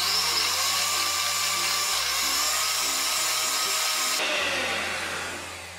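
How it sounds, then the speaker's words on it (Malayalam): An electric beater whips a butterscotch pudding mixture of condensed milk with a tablespoon of sugar added, a loud, steady, high-pitched motor whir that shifts in tone midway and fades slightly at the end. "ഞാൻ ഇതിലേക്ക് ഒരു ടേബിൾ സ്പൂൺ പഞ്ചസാരയും കൂടി ചേർത്ത് ബീറ്റ് ചെയ്യാണ്."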